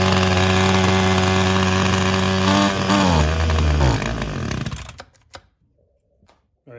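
A Ryobi SS30 string trimmer engine runs with the choke on, a loud buzzing two-stroke drone that sags and stumbles before dying out, leaving near silence with a few small clicks.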